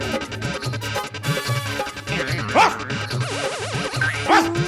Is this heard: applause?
no